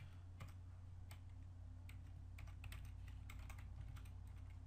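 Fingers tap quickly on a computer keyboard while entering data into an Excel spreadsheet, producing light, close clicks in irregular bursts over a faint steady hum.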